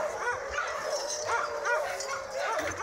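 A pack of sled dogs at a tour business near Canmore barks and yips repeatedly in overlapping bursts, moderately distant and fairly faint.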